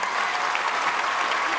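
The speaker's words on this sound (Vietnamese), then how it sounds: "khán giả vỗ tay tiếp đi ạ." A studio audience at a Vietnamese TV talent show claps in steady, dense applause, loud and continuous throughout the short stretch.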